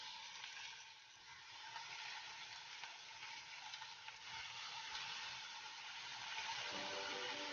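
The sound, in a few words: oyster mushrooms added to a hot pan, frying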